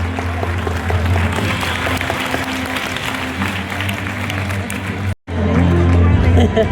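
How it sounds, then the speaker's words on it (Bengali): A large crowd applauds loudly and steadily at a live event where actor Prosenjit Chatterjee asks a singer to sing. Dense, continuous clapping mixes with crowd hubbub and breaks off briefly near the end before resuming. "give a huge round of applause for this special moment"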